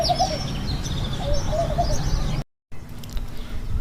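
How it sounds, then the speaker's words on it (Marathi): A dove coos in the early morning among trees, soft repeated rounded calls close by over a faint outdoor hum, followed by a brief cut and quieter ambience. "होलगा पक्ष्याचा एका गुटुरगु"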